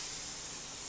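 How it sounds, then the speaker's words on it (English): A handheld water mister sprays over a watercolor painting, one brief steady hiss of fine spray with no pauses or voices. "So I'm gonna take the mister and I'm gonna spray it over here and just pull it across there."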